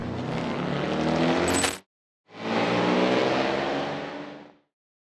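A Toyota GR86 convertible engine held at steady high revs, a loud sustained drone that cuts out abruptly, pauses, then returns for a couple of seconds before fading.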